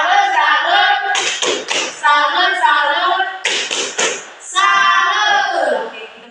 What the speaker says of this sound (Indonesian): tepuk salut untuk kita semua